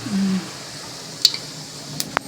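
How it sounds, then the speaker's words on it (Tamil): Cinnamon stick and mustard seeds sputter in hot oil in a pan for a chicken and prawn thokku, giving a few faint, scattered pops and crackles close by. "வந்து நல்லா பட்டை கடுகு எல்லாம் பொரிஞ்சிற சவுண்டு கேட்குது"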